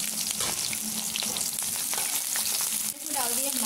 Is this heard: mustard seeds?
yes